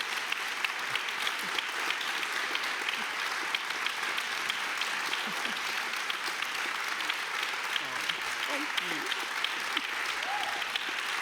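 Sustained applause from an audience at a literary talk with Chimamanda Ngozi Adichie, dense steady clapping filling the whole stretch, with faint voices murmuring underneath.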